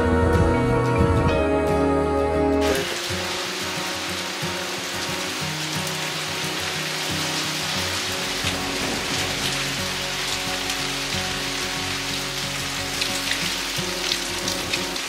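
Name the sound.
rain falling in forest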